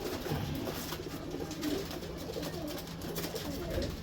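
Pigeons coo softly in low, rolling calls, faint against steady background noise, with no speech.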